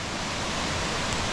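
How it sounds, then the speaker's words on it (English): Waterfalls at Watkins Glen State Park in New York produce a steady, broad rushing wash of water, continuous and fairly close, with no voices. "there's some waterfalls trickling through"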